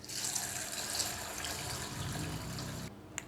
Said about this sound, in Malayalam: ഇനി ഇതിൻ്റെ അകത്തോട്ട് വെള്ളം ഒഴിച്ച് 2-3-4 പ്രാവശ്യം കഴുകിയെടുക്കാം.